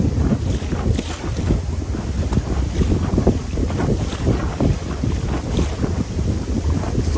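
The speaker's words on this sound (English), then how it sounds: "That is not 15 mile an hour wind." Strong gusting wind buffets a boat on Hickling Broad in rough weather, a loud continuous roar of wind across the microphone mixed with water splashing against the hull.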